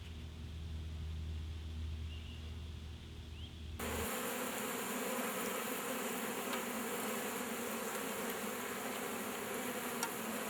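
Honeybees buzzing around an open beehive in southeast Georgia, a steady close drone that swells louder partway through and then holds as a dense, continuous hum with no speech.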